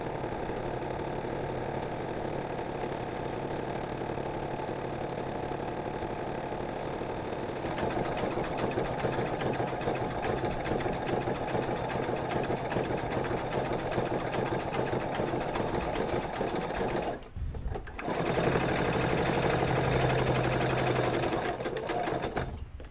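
A sewing machine top stitches a second row on a shoulder bag, running steadily and loudly for most of the stretch, briefly pausing near the end, then resuming.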